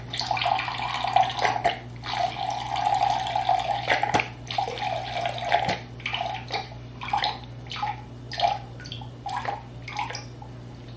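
Aloe vera liquid is poured into a heat-safe bowl while homemade natural hair oils are being prepared, giving a steady close trickle with a few brief clinks and splashes.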